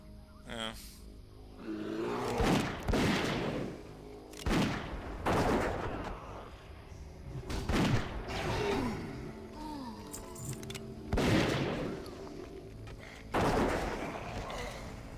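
Bursts of gunfire in World of Warcraft, loud volleys repeating every couple of seconds over game music and ambient rumble, with a player talking between shots.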